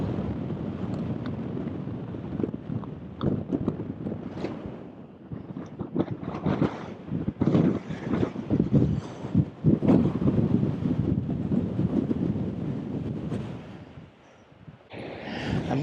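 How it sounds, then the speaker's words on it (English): Strong gusting wind in the Wah Wah Mountains of southern Utah buffets the microphone, rising and falling in loud rumbling bursts for the whole stretch. "I'm hoping that the wind isn't drowning out my voice and the mic is working"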